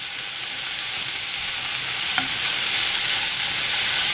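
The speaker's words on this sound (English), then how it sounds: "I just put a portion in there, and I'm just going to saute it." Cauliflower fried rice sautés in a pan, giving a steady, close hiss of frying with one brief stirring clink partway through.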